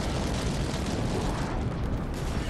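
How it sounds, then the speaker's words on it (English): A continuous wall of explosions from an aerial bombing run in the tank game Armored Warfare on PS4, dense, rumbling and loud, with no gaps or talk. "you will see a huge bombing run come in"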